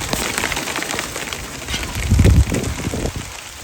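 Rain pattering down at an outdoor bush camp, a steady broadband patter of drops with a brief louder, low rumbling burst near the middle, no voices.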